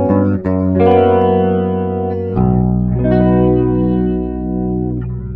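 An electric guitar runs through a slow, subtle rotary effect on an Eventide H9 Max pedal. Sustained chords and notes swirl gently for several seconds, loud and close, with no talking.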